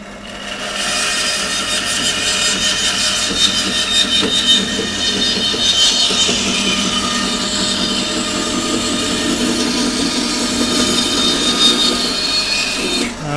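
A bandsaw rips steadily through a wood blank along the line of the pith, a loud continuous rasping whine with a constant tone that holds for the whole stretch without pause.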